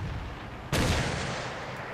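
A tank cannon fires in World of Tanks, one loud sudden blast with a long rumbling tail over steady background game noise.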